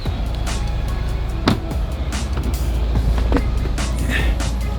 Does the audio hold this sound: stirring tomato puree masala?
no